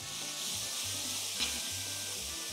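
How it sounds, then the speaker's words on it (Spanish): Onion, crushed garlic, sweet ají pepper and creole oregano sauté in a pan, sizzling steadily and close while a utensil stirs and scrapes through them, with no one speaking. "luego de que ya nuestra cebolla sofrió, vamos a colocar el ajo majado con ají gustoso y orégano criollo."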